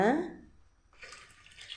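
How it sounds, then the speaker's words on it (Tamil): Water is poured from a small vessel into a pot of sambar made with toor dal, broad beans and brinjal: a soft, short splashing pour that follows a brief voice. "ஒரு சொம்பு தண்ணி ஊற்றிக்குவோம்."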